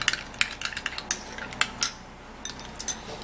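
A spoon stirs a tomato and egg face mask mixture in a bowl, producing close, irregular clinks and scrapes in quick bursts with brief pauses between.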